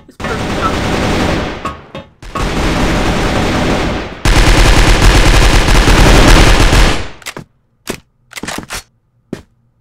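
Crossfire gunfire: long sustained bursts of loud, close automatic fire separated by short gaps, ending in a few isolated single shots with quiet between them.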